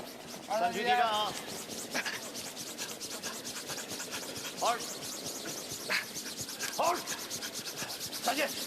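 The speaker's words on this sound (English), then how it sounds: "Xu, Zhao, and now Zhao jumping in on the brush" Curling brooms scrub rapidly across the ice ahead of a sliding stone at the 2018 men's world championship, China versus Germany, a continuous rough rasping sweep with rhythmic strokes, joined by occasional shouted calls in an arena.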